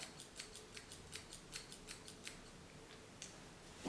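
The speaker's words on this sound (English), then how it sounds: "you are just going to go ahead and snip that" Scissors snip and point cut through hair during an at-home haircut, a quick run of light, crisp clicks in a steady rhythm, close and fairly quiet, with no talking.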